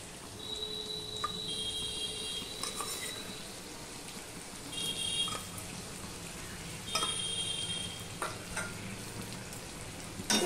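Green chilies, tomato and ginger are being sautéed in a pan, giving a low, steady sizzle with soft scrapes and stirring knocks at intervals, fairly quiet and with no voices.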